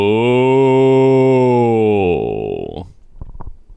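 A person imitates a cow, letting out one long, loud, sustained moo that holds steady before trailing off, followed by a few faint scattered sounds.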